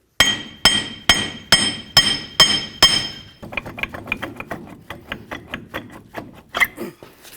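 Hammer work on a 1999-2007 Ford Super Duty F-250 front axle, knocking the bearing free of the steering knuckle: about seven heavy ringing metal blows at a steady pace, then a quicker run of lighter taps, with no talking.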